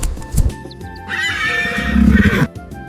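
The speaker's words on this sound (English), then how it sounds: "This is a horse." A horse neighing in one loud, drawn-out whinny that rises and wavers for over a second. A few short thumps come before it, and no one speaks over it.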